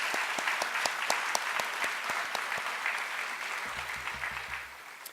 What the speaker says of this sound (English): Let's have another round of applause for Dennis and all of the staff here for being such great hosts.